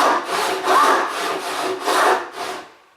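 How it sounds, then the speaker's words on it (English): A Western backless hand saw cuts through wood held in a vise in about six steady back-and-forth strokes, close and rasping, before stopping. "So saw down to my mark here"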